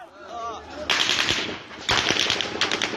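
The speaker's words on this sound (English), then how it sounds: "there's a barrage of gunfire, and the shots are close" Two loud, rapid bursts of automatic gunfire crackle close by at an aid convoy checkpoint in Gaza, with a third shorter burst at the end; a brief voice is heard at the start.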